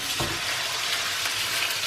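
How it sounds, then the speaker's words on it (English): Meat and vegetables sizzle loudly in a pan during a Chinese-style stir-fry, a dense, continuous hiss with faint scraping from stirring, heard close and alone. "So just stir fry those until they're done"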